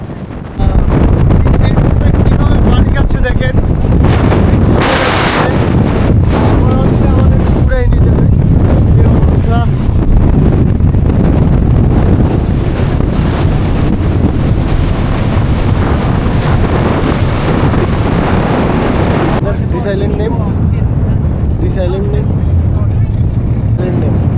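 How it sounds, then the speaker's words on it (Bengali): Speedboat crossing open sea toward islands off Krabi, Thailand, with steady wind buffeting and rushing water and engine noise filling the whole stretch, loud and close, with some voices faintly underneath. "চারটা আইল্যান্ড দেখতে যাওয়ার জন্য স্পিড বোটে যেতে যেতে"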